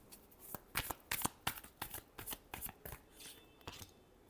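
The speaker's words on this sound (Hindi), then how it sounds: "Last shuffle." Tarot cards being shuffled, a quick series of crisp riffling bursts in an irregular rhythm, close and fairly quiet, with no talk.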